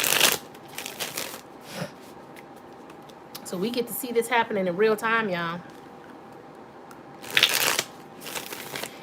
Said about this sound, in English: But I'm going to start shuffling.